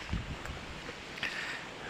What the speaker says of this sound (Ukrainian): Вітер такий капець